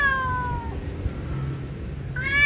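A tomcat, white with a patched coat, calls during mating season near a female: two drawn-out, close meows, one at the start and one at the end, with a quieter gap between.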